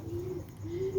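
A Rampuri pigeon coos softly in two low, drawn-out calls, faint and close, with no talking.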